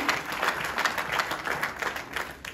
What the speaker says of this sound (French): Applaudissez très fort pour son Excellence Félix Antoine Tshisekedi Tshilombo.